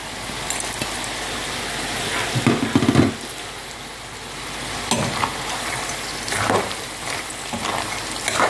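Garlic and chili fry with peanuts in a pan, making a crackling sizzle broken by a few louder bursts of stirring and scraping, close up and without speech.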